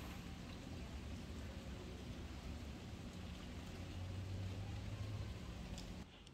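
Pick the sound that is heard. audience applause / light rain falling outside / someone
light rain falling outside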